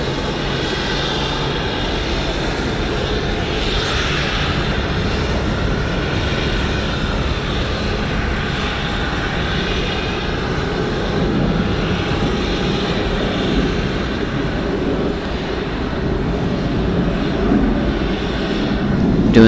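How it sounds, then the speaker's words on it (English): A Delta jet engine runs on the ground at Atlanta Hartsfield-Jackson airport during maintenance with the cowlings open, giving a loud, steady roar and broad rumble that holds constant for the whole stretch, with no voices. "Doing some engine work on the Delta down below."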